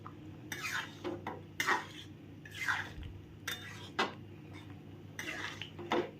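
Moong dal cooked with Katwa stalks and turmeric is stirred in a pot, with repeated scraping, clinking strokes of a spoon against metal and wet sloshing between the strokes.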